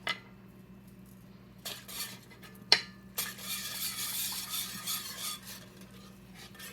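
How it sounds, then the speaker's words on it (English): Pectin and citric acid being whisked in a pan for peach peel jelly: a few scattered metallic taps, then a continuous close scraping whisk against the pan that grows busier toward the end. "I will whisk it to make sure it gets good and dissolved"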